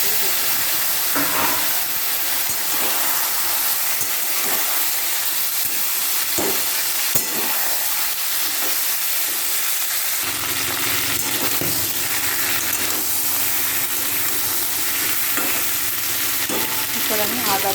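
Washed mutton frying in hot oil with onion, chilli and whole garam masala, a continuous loud hissing sizzle with occasional stirring clatter, growing fuller partway through, no talk.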